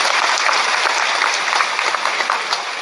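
A crowd at a Gujarati speech event claps in a sustained burst of applause, dense and fairly loud, tapering slightly toward the end.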